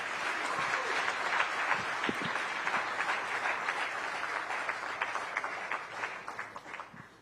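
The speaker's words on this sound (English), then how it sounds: "can we have a big round of applause?" Audience at the ET Now Global Business Summit 2024 gives sustained applause for the Home Minister of India, a steady wash of many hands clapping that gradually tapers, heard at moderate distance without talk.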